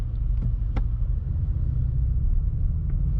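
Low steady hum from a 2025 BMW M5 with M xDrive four-wheel drive, heard from inside the cabin as a constant rumble with a few faint clicks and no talking.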